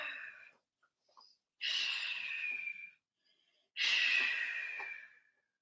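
Two long, slow breaths while holding an inverted yoga pose in a vinyasa flow, each a close, breathy exhale of about a second and a half, separated by quiet pauses, with no talking.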